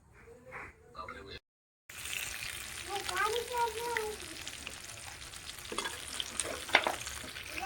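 Fish coated in garlic paste, turmeric and salt sizzles in a hot iron pan, a continuous close frying hiss with stirring clatter, while people talk over it.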